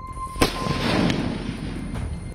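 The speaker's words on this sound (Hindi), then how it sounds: "इलाके में पटाखों का शोर है" A sharp firecracker burst cracks out, followed by a few fainter pops echoing in the distance over a noisy outdoor background.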